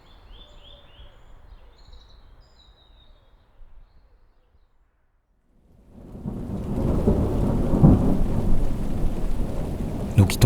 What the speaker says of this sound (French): le soleil fait place à l'orage, qui gronde dans les forêts de pins